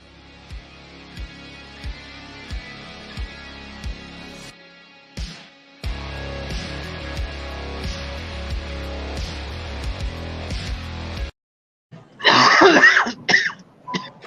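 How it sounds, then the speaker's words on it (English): A single harsh cough breaks out near the end, loud and close, after a stretch of music and a brief silence. "Perfect timing on the cough"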